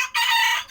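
A young rooster on a rooftop poultry setup gives one short, bright crow, loud and close, cut off after under a second.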